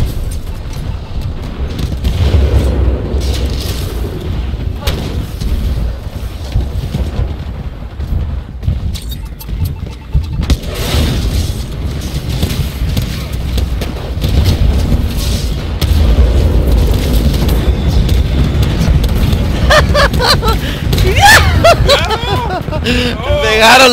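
Gunfire and booming explosions from a Titanfall 2 multiplayer match, dense and continuous while shooting at a titan, with excited talking over the battle throughout.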